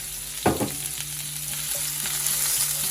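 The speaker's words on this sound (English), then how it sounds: "we're just going to give our onions a nice little saute" Onions sautéing in hot olive oil for a Philly cheesesteak give a steady, close sizzle, opened by a loud burst as they hit the pan, then an even crackling hiss with a few stirring sounds and no voices.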